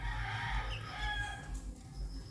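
A chicken clucks and crows faintly in the distance in a rural Philippine province, over a low, steady rumble of background noise.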